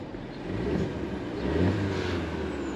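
Revving 1.5-liter turbo engine of a 2023 VW Jetta Sport with a manual gearbox, a steady mid-level drone that swells twice with a faint high whistle over it, heard up close without talk.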